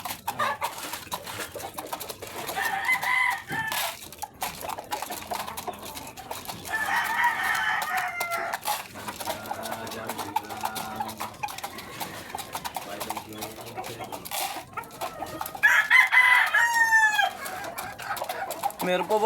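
Chickens and roosters cluck and crow repeatedly, with several drawn-out crowing calls rising over a busy background of fowl sounds and intermittent talking.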